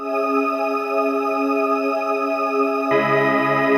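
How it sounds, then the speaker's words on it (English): A choir pad layer holds a loud, continuous stacked chord that shifts to a new, fuller voicing near the end, alone without speech. "and then this choir."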